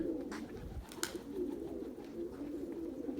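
A pigeon coos softly and steadily from nearby, a low throaty murmur rolling on with a couple of brief louder rustles, quiet overall with no talk.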